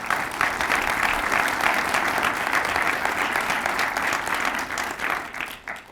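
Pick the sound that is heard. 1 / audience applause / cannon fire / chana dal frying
audience applause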